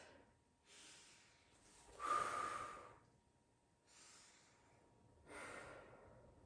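Deep, slow breaths during a low-impact body-sculpt workout with hand weights, heard close as about four airy inhale and exhale rushes spaced a second or two apart, with no talking.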